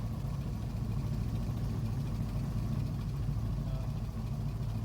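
A cold ZIL 130 truck engine idles just after starting, a steady low rumble with a faint rhythmic throb, close and continuous throughout with no talking.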